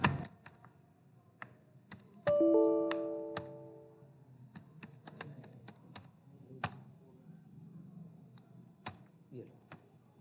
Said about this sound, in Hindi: ऐसे देखो कंट्रोल प्रिंट स्क्रीन किया